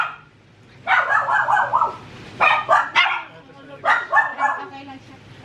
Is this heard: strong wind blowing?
no